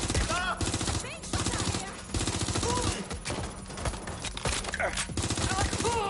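Sustained automatic gunfire in the video game Watch Dogs Legion, loud rattling bursts nearly nonstop, with short gaps between volleys and game voices layered underneath.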